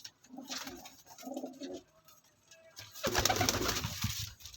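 Pigeons, golden cross and teddy cross birds in a group of twenty, cooing in short repeated low throaty bursts, then a louder rustle of wings and movement close by, with no voices.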